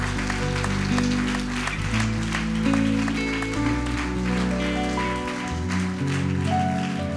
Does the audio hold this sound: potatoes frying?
no